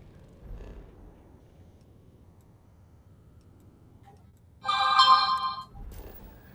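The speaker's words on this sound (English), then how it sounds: "Now my phone's going off even more again." A mobile phone's ringtone breaks into a quiet room, a loud, bright electronic melody lasting about a second before stopping abruptly.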